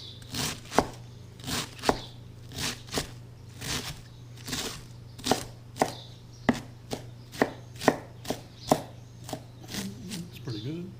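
Cabbage being chopped for coleslaw with a sharp knife on a board, a loose rhythm of firm, crunchy chops close by with a low steady hum underneath.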